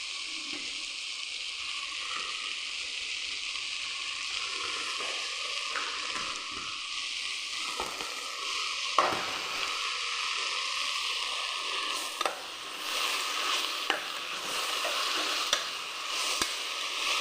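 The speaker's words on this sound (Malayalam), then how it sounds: "സവാള വഴണ്ടി വരുമ്പോൾ നമുക്ക് ചുവന്നുള്ളിയും തക്കാളിയും ഇഞ്ചിയും വെളുത്തുള്ളിയും പച്ചമുളകും കൂടെ ചേർത്ത് കൊടുക്കാം." Onion, shallots, tomato, ginger, garlic and green chillies sauté in a pan for a Kerala squid fry, giving a steady sizzling hiss broken by occasional stirring scrapes and clinks, close with no speech.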